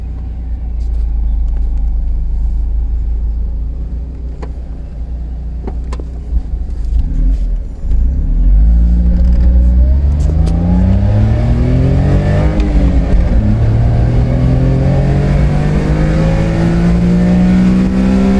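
A Honda Beat small sports car engine idles with a low rumble, then revs up and accelerates with the top down, pitch climbing through the gears, loud and close.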